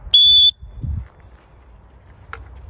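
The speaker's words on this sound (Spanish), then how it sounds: "Que te están silbateando." A person whistles to call dogs: one loud, sharp, high whistle held for about half a second, followed by faint room noise and a soft thump.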